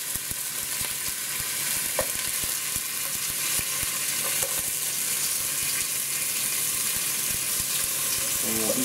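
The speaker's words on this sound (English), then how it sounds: "And we'll heat the meatballs up in here a little bit." Pre-cooked meatballs sizzle and fry steadily in a frying pan, a loud continuous crackle with occasional clinks and stirring knocks, no talking.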